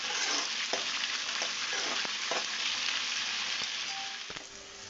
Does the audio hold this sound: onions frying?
yes